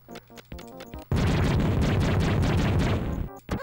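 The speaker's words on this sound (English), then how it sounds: "Oh, it's a grenade." Grenade blast in the VectorMan video game, a loud sustained explosion roaring for about two seconds after some short clicky game sounds, with no talk over it.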